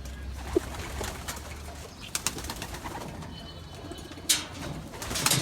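Racing pigeons coo in a loft, soft low calls repeating close by, with occasional wing flaps and rustling movement among the birds.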